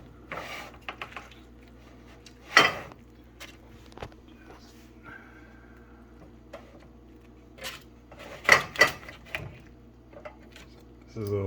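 A knife cuts into meatloaf on a plate, giving sparse, sharp clinks and scrapes of cutlery against the dish with quiet pauses between them.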